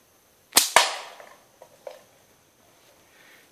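Two sharp snapping slingshot shots in quick succession, loud and close, followed by faint scattered impacts in the distance and then quiet.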